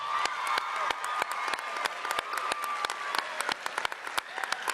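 A crowd applauds at a secondary school event with sustained, dense clapping, individual sharp claps standing out throughout, fairly close and steady for the whole stretch.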